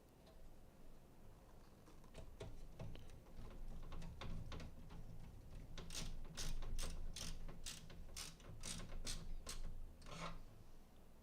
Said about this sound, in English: install the mounting screws